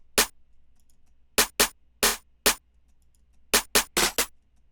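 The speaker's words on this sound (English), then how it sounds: "Then I added this snare pattern with a few snare rolls." Crisp, punchy snare hits in a sparse pattern, with quick bursts of rapid strikes clustered together, dry and loud against silence.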